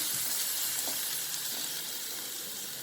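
Finely chopped small onions sauté in oil, giving a dense, even hiss of frying close by, with only a few faint stirring touches and no voices.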